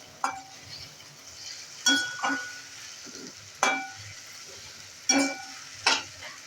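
Tomato and onion masala sautéing in a pan, a steady soft sizzle broken by several sharp scraping stirs of a spoon every second or two, close up and with no talking.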